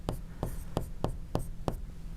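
Chalk or marker writing on a board during a trigonometry lesson, giving six or seven sharp, evenly spaced scratchy strokes close up, with nobody speaking.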